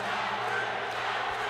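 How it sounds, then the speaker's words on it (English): Crowd noise fills a local amateur mixed martial arts bout, a steady, dense roar of massed voices from spectators chanting throughout, continuous and fairly loud with no pauses. "The crowd is chanting"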